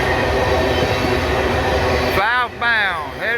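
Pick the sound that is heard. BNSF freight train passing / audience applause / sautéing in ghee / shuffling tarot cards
BNSF freight train passing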